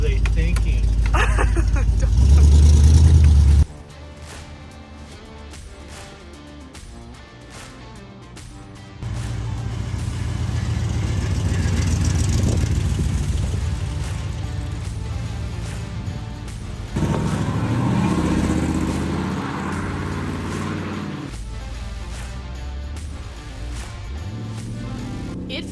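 A 1976 Corvette's engine runs loud and steady while the car is driven, its roar swelling and easing with the throttle, with a louder burst at the start and voices talking over parts of it.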